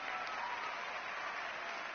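Studio audience applause in the Wheel of Fortune video game, a steady dense wash of clapping holding evenly for the whole moment, with no voices over it.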